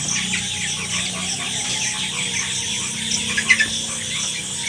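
Broiler chickens on a poultry farm give soft, scattered clucks and a few short squeals over a constant background hum, fairly close but not loud.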